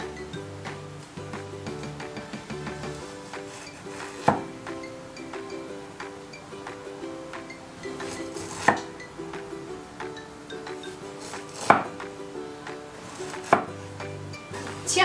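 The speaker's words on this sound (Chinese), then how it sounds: "细的丝瓜我们直接给它一开四" Knife chopping a luffa gourd on a cutting board, a series of sharp, close taps at irregular intervals over soft background music.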